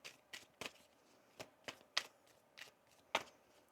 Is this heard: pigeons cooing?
no